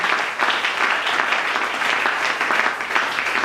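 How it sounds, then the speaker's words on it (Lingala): A church congregation applauding loudly and steadily, dense continuous clapping that swells and holds for several seconds without a pause. "On acclame très fort."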